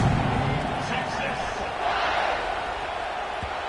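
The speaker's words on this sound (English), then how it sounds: "this crowd is buzzing after that last score" A football stadium crowd keeps up a steady, loud roar of buzz and chatter just after a touchdown and extra point, a dense, continuous wash of many voices with no single standout sound.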